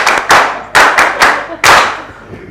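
An audience claps in several sharp, loud bursts during a gathering of ATMIS public information officers, uneven and close, each burst decaying quickly before the next.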